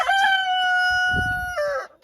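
A rooster crows loudly nearby in one long drawn-out call, with faint clucking and shuffling of other chickens in a coop in the background.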